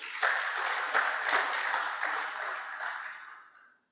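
A conference audience at a no-till farming club event gives a round of applause, moderate and fairly distant clapping that holds steady before tapering off and fading out at the end.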